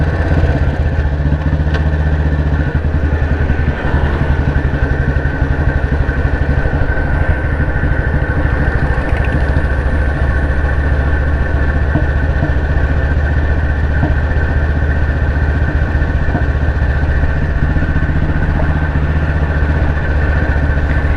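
A 2009 Royal Enfield CI Bullet 350 single-cylinder engine idles steadily and close by, a loud, even low thump with mechanical clatter running unbroken throughout with no talking.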